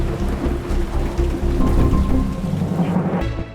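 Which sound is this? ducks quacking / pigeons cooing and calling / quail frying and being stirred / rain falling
rain falling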